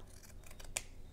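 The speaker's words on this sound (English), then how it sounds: "I'm just going to take a pair of shears" A single quick snip of shears cutting fabric at a quilt seam, faint and brief against a quiet room.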